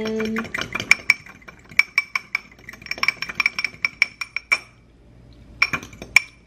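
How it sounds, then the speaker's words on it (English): Spoon clinking against a bowl while stirring lemon juice and garlic in oil, a run of sharp metallic taps in uneven bursts with a short pause before a few final clinks. "stir it around"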